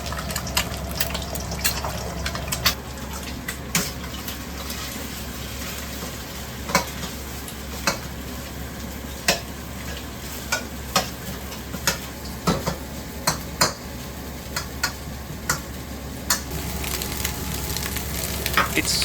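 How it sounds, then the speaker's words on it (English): Rice and two eggs fry in a pan, a steady low sizzle running throughout while sharp clicks and scrapes of a spatula or turner strike the pan at irregular intervals, close and with no talking. "Now I'm going to fry a rice. I put 2 eggs."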